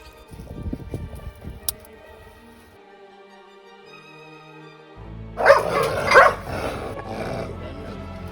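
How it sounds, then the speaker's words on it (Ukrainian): A dog gives a few barks and yips partway through, fairly near, amid low background noise and some scattered sounds, during a rescue in Vovchansk, Ukraine. "Повернулися за собачку."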